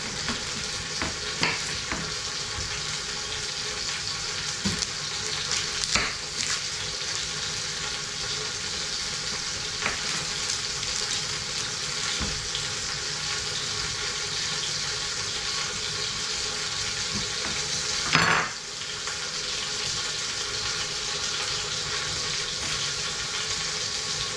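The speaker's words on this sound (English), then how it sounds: "You want to hear that sizzle going on." Steady broadband sizzle of meat searing in a hot pan, continuous and fairly close, with a few clinks and one brief louder clatter near the end.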